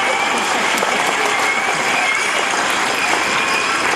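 An audience claps together at a schoolmaster's retirement ceremony, a thick uninterrupted roll of clapping from many people in a hall, with some crowd noise and light cheering mixed in.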